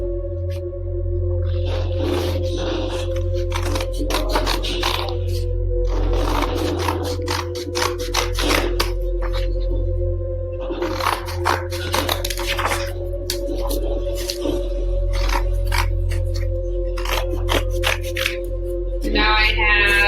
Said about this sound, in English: So now I'm going to take my scissors and I'm going to cut it out.